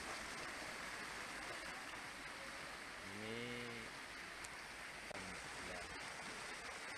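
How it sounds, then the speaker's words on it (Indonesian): Rushing water from a river overflowing its banks after hours of heavy rain, a steady broadband roar that fills the clip near and loud, with a brief burst of voice partway through. "Sungai meluap setelah kawasan diguyur hujan lebat selama berjam-jam."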